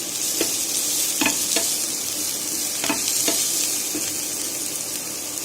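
Carrots and sprouted moong dal sauté in a pan, giving a steady broad sizzle broken by several sharp scraping clicks from a spatula stirring the vegetables, close and fairly loud, with no voices.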